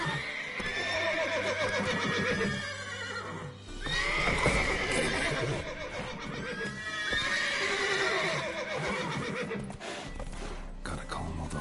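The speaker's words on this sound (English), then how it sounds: "Gotta calm all the horses." Horses whinny and neigh repeatedly over a dense, busy soundscape in the video game The Witcher 3, with faint hoof clops and some voice-like sounds mixed in.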